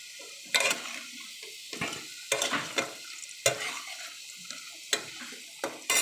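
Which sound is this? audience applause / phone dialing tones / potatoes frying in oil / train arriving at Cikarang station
potatoes frying in oil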